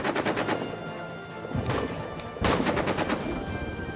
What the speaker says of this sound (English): There is bullets and grenades flying everywhere.